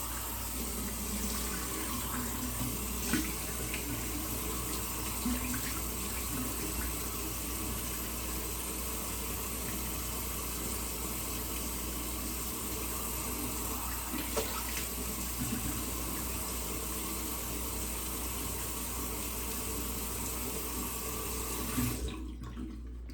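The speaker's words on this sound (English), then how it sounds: "All right, I'm gonna go ahead and rinse this off." Tap water runs steadily into a sink for rinsing after a straight razor shave, a continuous close splashing rush that cuts off abruptly at the end.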